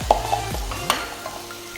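Food being stirred in a pan during home cooking of a balanced nutritious meal: a few scraping, clinking stirs over a soft background hiss, close and fairly loud with no talk.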